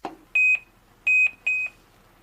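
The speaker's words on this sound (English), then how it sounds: "It beeps when I go to the correct cable." A FNIRSI LPM-10A network cable tester beeps three times in quick succession, each a short, clean electronic tone, close and clear with quiet in between.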